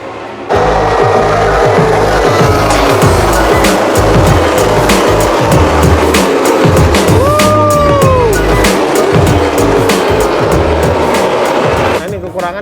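MotoGP racing motorcycles roar past at Mandalika circuit in light drizzle, a steady loud engine drone with rising and falling whines as bikes pass, crowd and voices mixed underneath.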